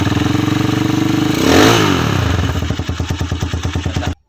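A motorcycle engine idles with a pulsing beat, then revs up in a swooping rise and fall before settling back into a choppy, loping idle, loud and close, and cuts off abruptly at the end.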